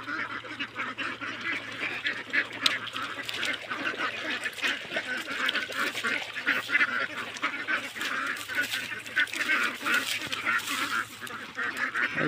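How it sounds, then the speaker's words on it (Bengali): A large flock of roughly 500 to 600 domestic ducks walking homeward, giving a dense, continuous chorus of overlapping quacks and honks at steady loudness throughout, with no talk. "এই যে অনেক হাঁস"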